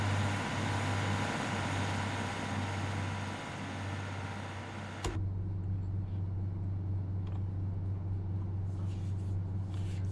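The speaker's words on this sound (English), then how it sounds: "It almost sounds like this 150 needs a throat lozenge or something." A British Rail Class 150 diesel multiple unit runs with a rough, gravelly engine drone, a steady loud low hum over broadband rumble that drops abruptly halfway through while the low hum continues, with no talk.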